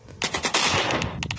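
Automatic AK rifle fire in a Gameloft mobile shooter, delivered as loud rapid bursts with short gaps between them and a steady stretch of continuous shooting in the middle.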